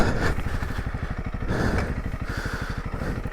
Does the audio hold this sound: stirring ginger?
no